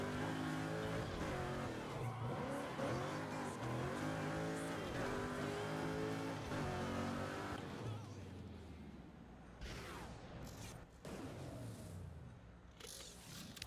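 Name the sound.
car engines and tire squeal in video game Burnout Paradise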